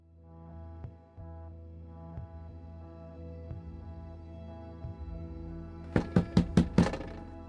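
Police pound on a door during a search warrant entry, five loud, rapid knocks near the end, heard over low, sustained background music.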